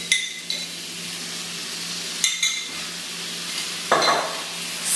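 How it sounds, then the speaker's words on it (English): Borscht vegetables with tomato ketchup being stirred in a pan: a soft, steady sizzle with scraping utensil strokes at irregular moments, close and moderately loud, with no talk. "Stir it around."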